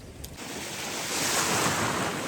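A sea wave surges in close by, a rushing roar that swells and holds loud with wind buffeting the microphone.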